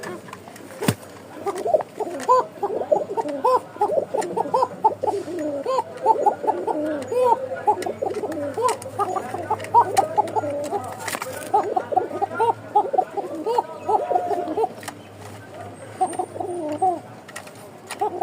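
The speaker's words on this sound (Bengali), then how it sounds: "প্রতিটা কবুতরই কিন্তু ডাক আছে" Rajshahi Koka pigeons coo continuously in deep, rolling, overlapping calls close by, with human voices murmuring underneath the flock throughout.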